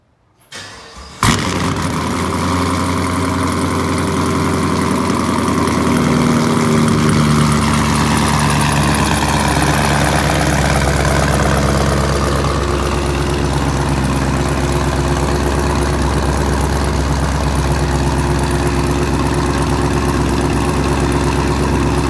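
A 2018 Chevrolet Camaro strapped down on a dyno cranks and fires about a second in, then settles into a loud, steady idle with a low rumble that holds for the rest of the clip, with no talking.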